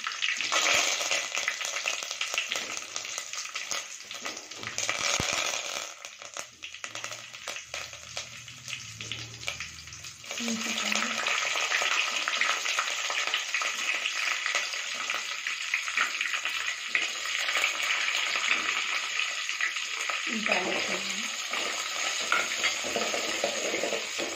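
Dried red chillies, curry leaves and fenugreek seeds fry in hot oil while cooking a pumpkin curry, a continuous crackling sizzle with occasional stirring and a quieter stretch midway.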